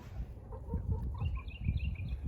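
Farm chickens clucking and murmuring close by, soft repeated clucks over a low rumbling background, with a few higher chirps from other birds mixed in.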